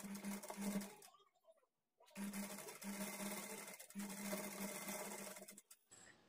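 A sewing machine runs stitching the shoulder joint of a blouse with a half-inch margin, its rapid whirring hum going in bursts with a brief stop between runs, heard close and steady.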